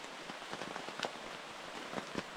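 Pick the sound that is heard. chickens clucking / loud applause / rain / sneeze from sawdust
rain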